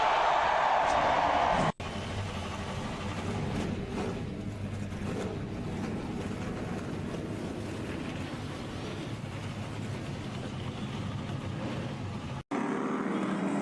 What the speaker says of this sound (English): As the engines are all fired up,